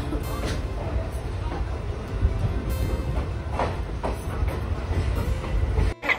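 A passenger train runs steadily on rails, a loud continuous rumble with clickety-clack wheel beats and a brief dip near the end.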